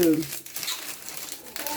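Paper crinkles and tears close by, rustling for a moment while a voice speaks briefly at the start and end.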